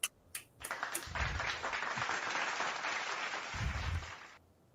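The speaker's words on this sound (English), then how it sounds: "Should we get an applause?" Broadcast audience applause erupts after a couple of isolated claps, a fairly quiet, even wash of clapping that sustains for several seconds with a low thump or two underneath, then stops abruptly.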